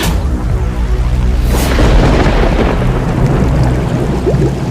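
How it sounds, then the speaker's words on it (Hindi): A loud lightning thunder crash bursts out as a sudden sharp boom, then rolls into a heavy, rumbling roar that lingers, with a rain-like hiss beneath it. "अचानक जोर की बिजली कड़की"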